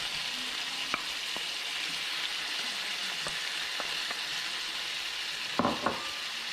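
Mushrooms fry in a pan with a steady, soft sizzle, broken by a few light clicks and a brief scrape of stirring near the end.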